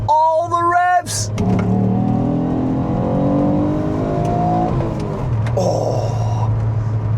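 A Ford Mondeo ST200 V6 engine with 160,000 miles revs hard, climbing in pitch through a long sustained pull, then settles to idle, with a brief throttle blip at the start.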